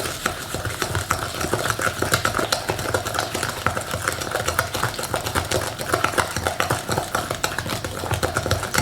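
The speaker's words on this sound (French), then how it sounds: "on vient mélanger nos œufs et notre sucre" Eggs and sugar beaten together for biscuit dough, a steady whirring mix with quick scraping, clinking strokes in a bowl, fairly soft and continuous with no talking.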